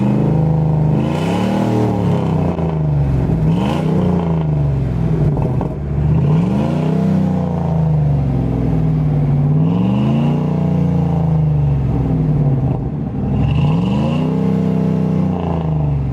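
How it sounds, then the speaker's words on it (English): A second-generation Dodge Ram with a 318 5.2L V8 revving through its exhaust, rising and falling in repeated loud pulls over a rumbling idle, close and without talk. "Now we're gonna rev it up."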